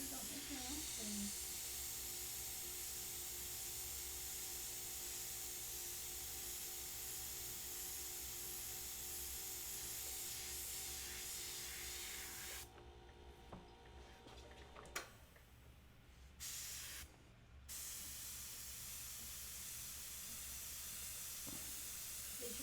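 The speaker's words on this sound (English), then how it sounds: "They should make an air compressor that sounds like a cat purr when it's running." Air compressor runs steadily at a paint session, a constant loud hiss and hum that fills the clip, with brief dropouts near the middle and people talking faintly underneath.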